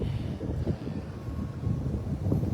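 Wind blows steadily into the microphone, producing a dense low rumbling buffet with no clear voices.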